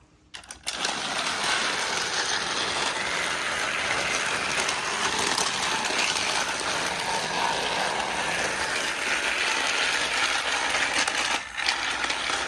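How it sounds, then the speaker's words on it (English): A motorized Thomas and Friends Gordon toy train runs along a track layout, giving a steady, close mechanical whir and rattle that starts abruptly and continues without a break, with no voices. "So let's run Motorized Gordon now."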